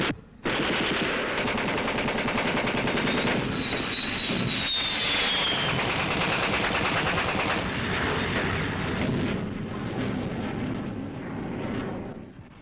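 Rapid, dense bursts of rifle and machine gun fire fired against air raids, an unbroken loud rattle lasting many seconds with a faint high whine drifting through it, recorded on old film sound.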